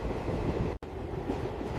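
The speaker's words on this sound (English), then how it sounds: "We are inside the train at last." Inside a moving rail car, a steady low rumble and rattle of wheels on track fills the space, briefly cut by a short gap, with no talk.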